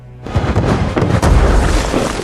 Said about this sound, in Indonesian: Ledakan bom membuat Kraven kewalahan